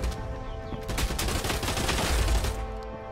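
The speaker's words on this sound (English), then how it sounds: "Is that AI shooting?" AI enemies fire rapid volleys in a VR shooter, a sustained stretch of overlapping gunshots crackling at close to mid range, steady and loud throughout.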